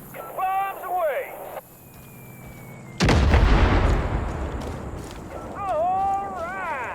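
An explosion erupts at about three seconds and rumbles on with debris, bombs dropped from the air in the Far Cry 5 video game, with voices talking before and after the blast.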